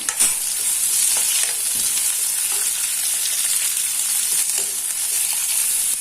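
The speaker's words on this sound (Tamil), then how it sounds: "நம்ம இந்த ஆனியன், கேப்சிகம் ரெண்டையும் சேர்த்துடலாம். இது நல்லா வதங்கட்டும்." Onion and capsicum sauté in a hot pan with oil, giving a steady, loud sizzle throughout with occasional stirring scrapes, no voices.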